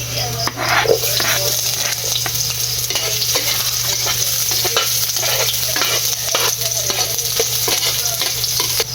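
Onions sizzle loudly in a pan while a utensil scrapes and stirs them in an irregular rhythm, a continuous close frying hiss over a low steady hum.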